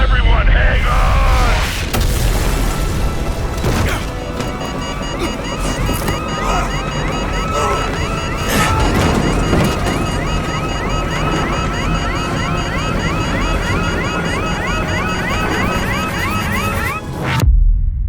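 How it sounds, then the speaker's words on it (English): A nuclear explosion in the video game Call of Duty Modern Warfare Remastered, a loud deep boom followed by a long rumbling roar with debris and alarm-like tones, people talking over it before the sound cuts off abruptly. "What appears to be an explosion in epic proportions."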